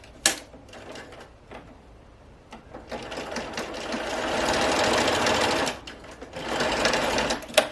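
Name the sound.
sewing machine stitching fabric pieces for a ruffled pillow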